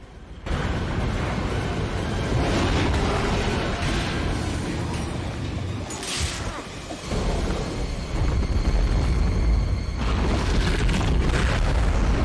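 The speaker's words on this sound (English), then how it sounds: "Nuclear fucking shark explosion." Massive explosion as the shark is blown up at the climax of the 1999 film Deep Blue Sea; a loud sustained roaring blast with rumbling debris, briefly dipping before surging again, no speech.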